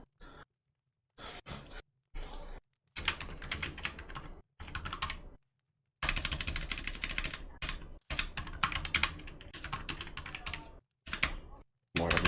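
Bursts of fast typing on a computer keyboard, the clatter of keys coming in several separate runs broken by silent pauses, close and fairly loud, with a sigh among them.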